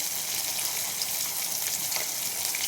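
Spices frying in oil in a kadai, a steady, fairly quiet hiss and crackle that runs evenly throughout with no voices.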